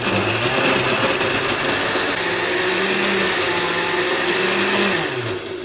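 A blender purees chilled avocado soup in a loud, continuous whir, its motor pitch dipping and rising a few times as the thick mixture churns, ending with a slight drop.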